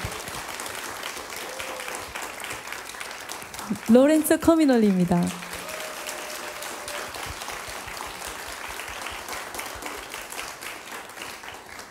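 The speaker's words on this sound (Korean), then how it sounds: "박수 부탁드립니다." Concert audience applauds the musicians at a live guitar performance in Chuncheon, South Korea, a moderate steady patter of clapping from many hands beneath a host speaking over it throughout.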